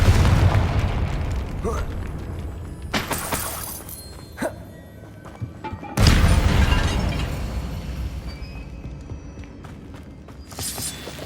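Confringo explosive spell in the video game Hogwarts Legacy: two heavy booming blasts with rumbling decay, plus a few sharper bursts and pops between and after them.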